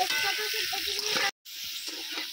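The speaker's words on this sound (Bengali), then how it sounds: "আলুর মধ্যে দিয়ে দিচ্ছি পরিমাণ মতো নুন দিয়ে আলুটাকে কিন্তু আমি খুব ভালো করে ভেজে নেব।" Potato pieces with salt frying in hot oil in a home kitchen for a cauliflower and potato curry, a steady close sizzle with brief bubbling pops, cut by a short silent gap before the frying resumes.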